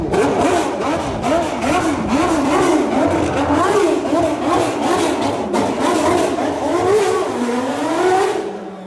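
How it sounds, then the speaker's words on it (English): A McLaren MP4/5 Formula 1 car engine revving and driving past, a loud, rising and falling mechanical wail with rapid pitch sweeps that stays close and strong before dropping away at the end. "So I saw this car moving and the sound was absolutely amazing."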